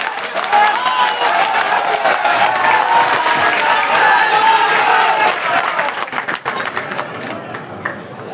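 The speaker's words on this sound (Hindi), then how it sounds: "कृपया जोरदार तालियों से उनका स्वागत कर दें।" Loud, sustained applause and cheering from a large crowd welcoming a guest at a political party gathering in a packed hall, dense clapping that swells and then gradually tapers off.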